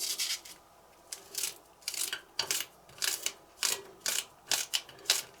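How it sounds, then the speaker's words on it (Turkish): Green onions are chopped by hand on a board, a series of quick, crisp knife strokes in uneven bursts, close and fairly quiet. "Şimdi bunları elimde doğrayacağım ben."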